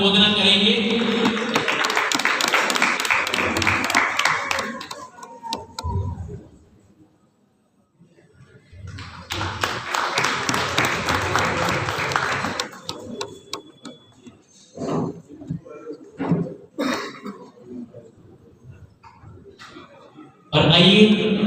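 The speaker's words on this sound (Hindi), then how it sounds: "जोरदार तालियों के साथ अनुमोदना करेंगे।" Temple crowd at a Jain Panch Kalyanak ceremony in Delhi clapping loudly in two long bursts, separated by a quiet gap, followed by someone speaking over a hall sound system.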